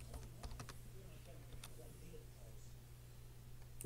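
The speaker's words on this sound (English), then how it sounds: "I'm going to type live." Live typing on a computer keyboard produces quick, irregular key clicks that are faint against a low steady hum, with bursts of taps near the start and scattered strokes later.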